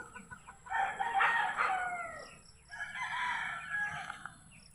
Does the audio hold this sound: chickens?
yes